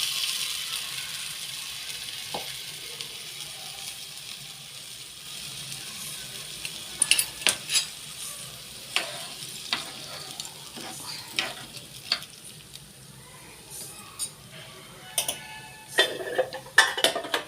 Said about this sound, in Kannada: ಹುಣಸೆ ಹಣ್ಣಿನ ನೀರು ಚೆನ್ನಾಗಿ ಕುದಿಬೇಕಿದೆ